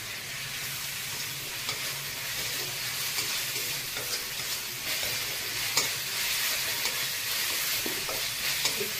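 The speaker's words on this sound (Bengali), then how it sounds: "এবার এই রসুনটা একটু ভাজা ভাজা করে তারপর সব মশলাগুলো দিয়ে এবার একটু কষাবো" Garlic and spices sizzle in hot oil for a prawn malai curry, with a steady frying hiss and occasional scrapes and clinks of a spoon stirring the pan; no talking.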